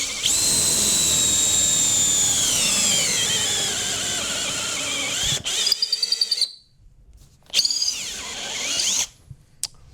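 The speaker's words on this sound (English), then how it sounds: "my drill's running out of batteries" A battery-powered drill whines at high speed in a woodworking shop while making a crescent pen holder, with a long steady run that gradually slows, then several short stuttering bursts and pauses as the battery runs low.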